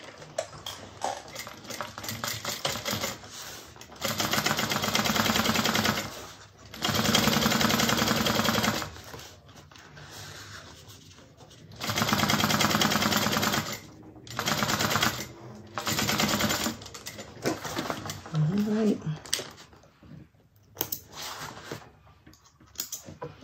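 A sewing machine top stitches a bag lining in several bursts of rapid, steady whirring, each running a few seconds and separated by pauses filled with handling noises.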